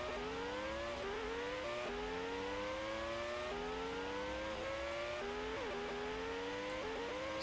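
Formula racing cars scream around Interlagos in a racing video game, their engines revving steadily and climbing through gear after gear with repeated rising whines, each upshift dropping the pitch, continuous and without talk.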